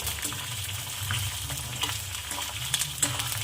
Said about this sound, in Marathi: आता लसूण आणि मिरची पण सोडते यामध्ये छान भाजून घ्यायचा याला